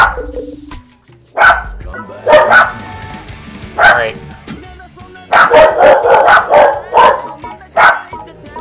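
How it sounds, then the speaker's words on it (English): Small puppies barking and yipping in repeated short bursts, close and loud, with a voice speaking between the barks. "Please be quiet, puppies."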